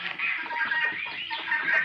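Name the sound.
chickens clucking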